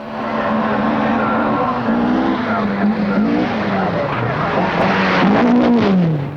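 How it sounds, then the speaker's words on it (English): Lancia Stratos mid-engine rally coupe on the 1974 RAC Rally in Britain, its engine droning and rising and falling in pitch as it drives past, mixed with tyre and road noise and a commentator's voice. "Sandro Manari and the Stratos, Lancia's new mid-engine coupe, on its first visit to Britain."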